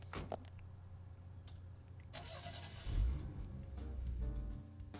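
In the video game Deadly Premonition, a car engine cranks and starts with a few clicks and thumps, then rumbles steadily as it pulls away, heard fairly faint and alone.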